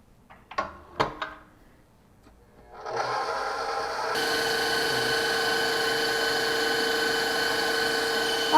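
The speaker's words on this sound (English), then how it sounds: "We're going to whisk this on high until it gets frothy." A few sharp knocks and clatters come first. Then an electric mixer spins up and whisks egg whites on high, a steady loud motor whir that runs on without a break.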